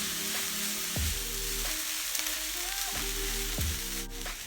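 Hibiscus flowers frying in a pan with a loud, dense sizzle throughout and a few sharp knocks of utensils against the pan.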